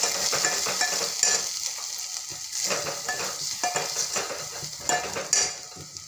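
Turmeric, coriander powder and red chili powder are stirred into potatoes in a pan, a continuous close sizzle with repeated scraping of a spoon against the metal.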